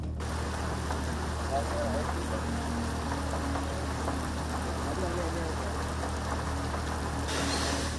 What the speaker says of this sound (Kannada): ಇನ್ನು ವಿಧಾನಸೌಧ ಆಸುಪಾಸಲ್ಲೂ ಮಳೆ ಸುರಿದಿದ್ರಿಂದ ವಿಧಾನಸೌಧ ನೋಡಲು ಬಂದವರು ವಿಧಾನಸೌಧ ದ್ವಾರದ ಬಳಿಯೇ ಆಶ್ರಯ ಪಡೆದರು